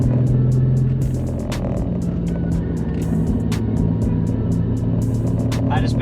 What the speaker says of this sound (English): just slowing the car down with the e-brake, sometimes with the drivetrain engaged, sometimes with the clutch in